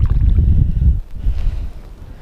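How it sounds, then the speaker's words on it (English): Wind gusting against a microphone outdoors while metal detecting, a heavy low rumbling buffet that dips briefly, then returns, loud and close with no voices. "Oh, this wind."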